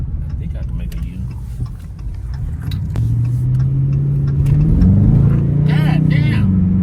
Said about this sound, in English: This damn car grabs every time you put the gas on.